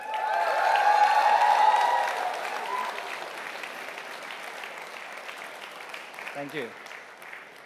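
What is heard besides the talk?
audience applause at ColorOS 7 launch event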